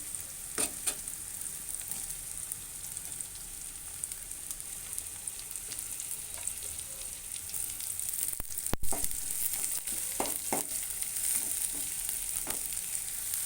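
Chopped onions frying in a pan for a home-cooked chicken curry give off a steady, close sizzle, with occasional sharp clicks and scrapes from stirring and no talking.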